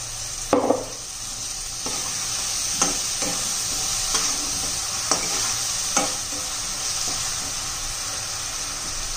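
Onions and tomato paste fry in a pan for a chicken masala, with a steady close sizzle and hiss broken by several sharp spoon scrapes and knocks against the pan.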